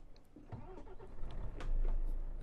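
A Volvo FH 2014 truck engine starts in Euro Truck Simulator 2, with clicks and a cranking whir that swell into a low, steady idle rumble close by.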